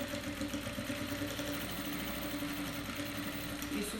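Sewing machine running steadily as it stitches a safety seam right along the edge of a bag lining, a continuous mechanical hum with fine rapid ticking, close and fairly loud with no talk.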